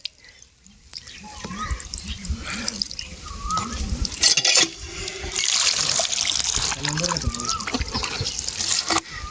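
Bael fruit is rinsed under running water, a continuous splashing and trickling with dripping and handling noises, loud and close, with no voices present.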